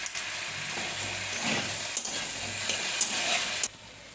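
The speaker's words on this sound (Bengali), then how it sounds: "সবজিটা আমার ভাজা ভাজা হয়ে গেছে, আমি এবার এই মশলাটা একটু দিয়ে দেবো।" Vegetables frying in oil in a pan, a steady sizzle broken by a few scraping stirs and light spatula knocks on the pan, ending abruptly; no one speaks.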